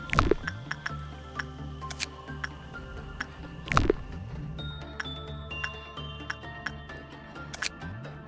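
Watery squishing and dripping sounds from the video game Lobotomy Corporation, a scattered run of soft wet clicks and drips over a low steady background hum, with a few louder splashy bursts near the start and middle.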